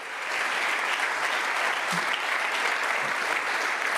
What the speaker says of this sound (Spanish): Regalale otro aplauso al Rey